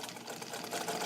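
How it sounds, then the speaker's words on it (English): A restored all-metal vintage Necchi BU Nova sewing machine runs a long straight stitch, giving a steady, close, continuous whirring mechanical hum with no pauses or talk. "right now I'm just doing a long straight stitch"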